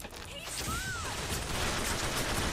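Sustained machine gun fire in the shooter BioShock Infinite forms a dense, continuous rattling burst, loud and close, with a brief rising whistle early on and no pause.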